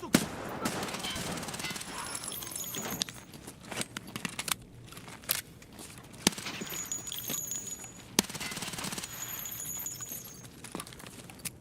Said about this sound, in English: You guys need to stop shooting me.